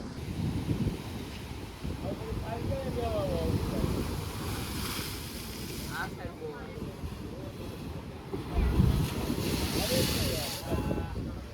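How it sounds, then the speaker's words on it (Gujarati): Steady cold wind gusts and rumbles against the microphone beside surf at Dwarka, a constant roar that swells at times, with a voice speaking faintly underneath. "મસ્ત મસ્ત ઠંડો પવન ખાઈએ"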